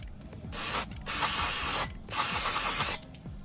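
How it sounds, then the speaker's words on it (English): Three short bursts of aerosol lubricant spray onto front brake parts of a 2017 Toyota Corolla, each a loud, close hiss lasting under a second, separated by brief pauses. "I'll get some more lube all over the surface."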